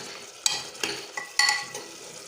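Mutton curry being stirred in a pot: a few close, sharp scrapes of a spoon against the metal over a soft sizzle, coming in irregular strokes, with no speech.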